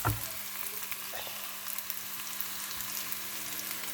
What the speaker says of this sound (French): Laisser mijoter 5 minutes, pas plus.